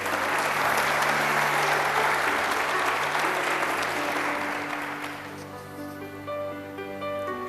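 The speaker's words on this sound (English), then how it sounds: "You guys can applaud again, too, if you want to." An audience at a county fair queen pageant claps steadily for several seconds, the applause thinning out toward the end while a low musical tone hums underneath.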